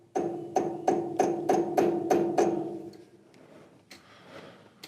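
A brass workpiece held in a lathe chuck being tapped into position: about eight evenly spaced, ringing metallic knocks, loud and close, followed by a couple of fainter taps, with no talking.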